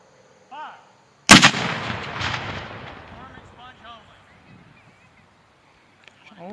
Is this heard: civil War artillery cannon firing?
yes